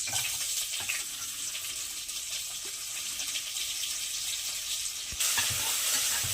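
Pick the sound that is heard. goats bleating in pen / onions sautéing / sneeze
onions sautéing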